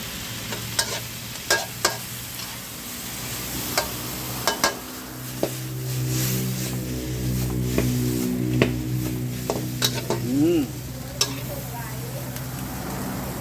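Bitter gourd and egg sizzle and hiss in a hot pan while a spatula scrapes and clacks against the metal in irregular strokes, close and fairly loud.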